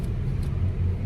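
A friend's car rumbles with a low, steady engine drone from inside the cabin, continuous and moderately loud with no voices.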